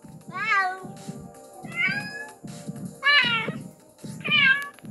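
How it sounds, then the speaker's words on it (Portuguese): A video game cat meows four times in a row, each cry rising and falling, over a low repeating background hum. "Olha esse miado, que bizarro."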